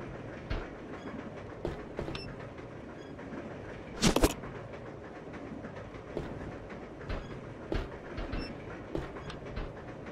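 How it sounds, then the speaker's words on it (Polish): A train in the Resident Evil 0 video game rumbles steadily with rhythmic clickety-clack knocks and one sharp, louder clatter partway through. No one speaks. "Wychodzimy z tego pociągu w końcu."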